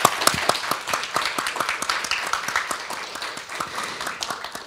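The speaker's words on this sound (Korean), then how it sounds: "박수 부탁드립니다" Audience applause after a KAIST AI dialogue session, a crowd clapping with clearly separate sharp claps standing out over the mass, strong at first and gradually easing off across a few seconds.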